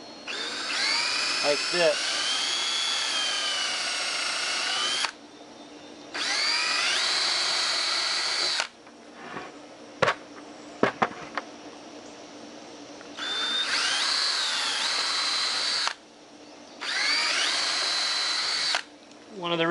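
A power drill drives screws into the wooden legs of a sawhorse in several loud whining bursts with pitch sweeps, separated by brief pauses, handling knocks and someone speaking briefly.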